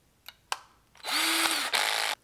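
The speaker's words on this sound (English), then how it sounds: "go ahead and drill the holes in the wall for your anchors" A power drill with a 3/16 drill bit bores into a wall: two brief clicks, then a loud steady whine for about a second, a short dip, and another burst before stopping.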